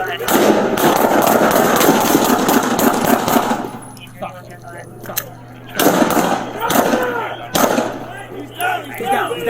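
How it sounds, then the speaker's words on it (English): Police gunfire erupts during an officer-involved shooting in San Diego's Mid City, with a rapid volley of loud, close shots followed by scattered single bangs, officers shouting over the reports. "Shots fired, shots fired."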